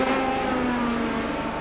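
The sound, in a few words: Formula One car engines, Warwick and Piquet, 1984 San Marino GP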